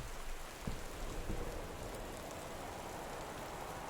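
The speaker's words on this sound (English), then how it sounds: "Okay, it's raining." Steady rain patters on a front porch in the video game Gone Home, a dense, continuous hiss with a few slightly louder drops early on, heard alone with no voices.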